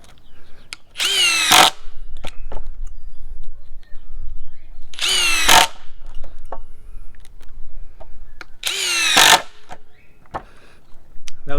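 Ryobi P239 brushless impact driver driving screws on an HP battery, three loud bursts of rapid hammering whir about two seconds apart, with quieter clicks and handling noise between them.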